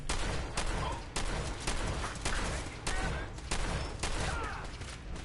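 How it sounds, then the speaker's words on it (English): Combat shotgun fire in the video game Fallout 4, dense repeated blasts mixed with other gunfire in a loud continuous firefight, heavy and close throughout. "Time for the combat shotgun, chat."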